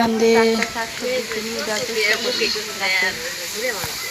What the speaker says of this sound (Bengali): মাছ রান্না করছে